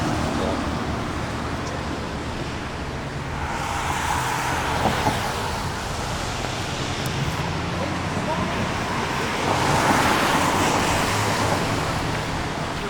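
Steady roar of car traffic on a road near an overpass, a continuous loud wash of passing vehicles and wind with swelling passes, heard outdoors while a voice talks at times.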